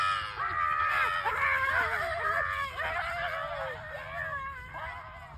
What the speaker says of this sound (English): if you listen closely, you can even hear their agonizing screams